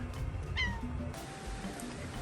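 A cat in a bush plane workshop gives one short, fairly faint meow over steady low room noise and hum.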